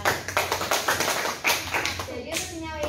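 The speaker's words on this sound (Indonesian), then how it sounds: "Tepuk tangan dulu Ida" Group of students clapping for a classmate in a classroom, a short burst of many quick overlapping claps that fades out after a couple of seconds.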